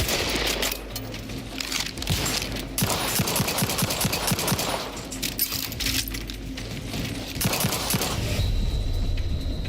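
Automatic gunfire from a weapon in The Outer Worlds 2, heard as rapid bursts of shots with metallic clatter and short gaps between volleys, loud and close with no voices.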